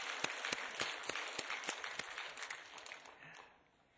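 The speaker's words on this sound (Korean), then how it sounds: "찬양대 다시 한번 격려 박수하겠습니다." Congregation applauding a church choir during a Korean worship service, a burst of many hands clapping with a few sharp individual claps, fading out toward the end.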